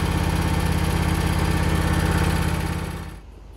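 A Toro Grandstand 48-inch ride-on mower running with a loud, steady engine drone close by, then winding down and dropping to a quieter idle near the end.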